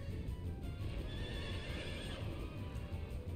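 A six-legged horse summon from Final Fantasy IX lets out a sustained neigh over galloping clip-clop hooves, steady and moderately loud with no talking.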